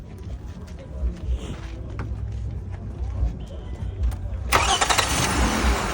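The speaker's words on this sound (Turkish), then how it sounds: "Al sana motorun sesi." A Toyota Camry with a worn engine cranks and catches, then runs at a rough, uneven idle close by. Partway through, a sharp broadband hiss joins in, with voices faintly present beneath.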